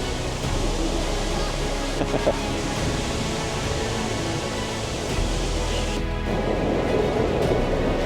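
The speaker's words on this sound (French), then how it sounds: "Il y a un passage qui va derrière la cascade." Seljalandsfoss waterfall in Iceland pours down in a steady, enveloping roar of falling water heard from close by, swelling slightly heavier toward the end.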